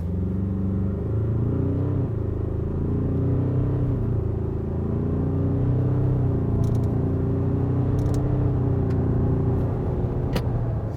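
2021 Ford Ranger dual-cab ute accelerating hard from 0 to 100 km/h, a steady, loud engine drone and road rumble that holds for about eleven seconds with gear shifts faintly audible.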